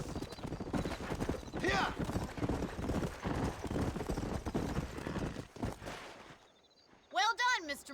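Horses' hooves clip-clop steadily in Red Dead Redemption, with characters talking over the hoofbeats, before things quiet down and a horse whinnies sharply near the end.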